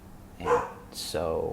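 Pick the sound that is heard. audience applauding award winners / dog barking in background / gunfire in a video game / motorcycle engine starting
dog barking in background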